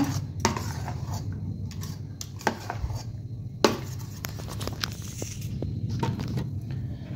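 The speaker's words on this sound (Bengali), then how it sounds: "এই সময় আমি এতে 1 পিঞ্চ নুন দেব, একদমই সামান্য। এবার ভালো করে গুলিয়ে নেব।" Ground moong dal paste stirred with a pinch of salt in a bowl, giving a steady soft scraping and tapping of a utensil against the vessel with a few sharper clinks, close and continuous without talk.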